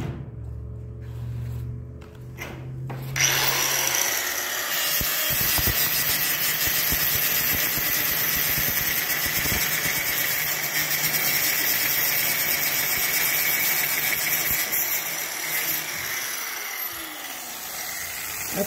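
A power tool cuts through hardware cloth wire mesh for an aviary or cage build, starting after a short quiet lead-in, then a loud, steady high-pitched whine and grinding that runs continuously without pause.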